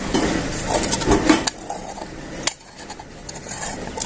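Pot lid lifted and food scraped from the pot onto a metal plate while making ukid poli dough, with clattering metal and cutlery clinks, a sharp clank near the middle and quieter scraping afterward.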